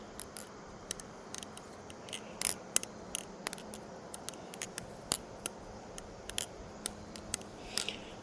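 A replica balisong butterfly knife with G10 handles and very little blade play is flipped, giving scattered sharp metallic clicks and clacks in irregular bursts, fairly close and crisp, with no talking.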